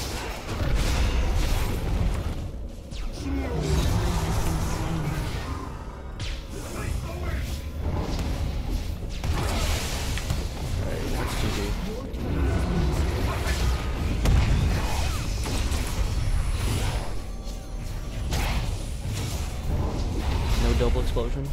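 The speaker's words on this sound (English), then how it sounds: "double explosion?" Explosions and combat effects from the video game League of Legends play as a dense, continuous run of booms, whooshes and clashing mechanisms, with a voice speaking over the game sounds.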